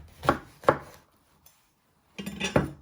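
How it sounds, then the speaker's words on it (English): A knife chopping through a lemon on a board, giving two sharp close thuds, a pause, then a busier burst of cutting knocks with some clatter. "You're first going to chop it in half"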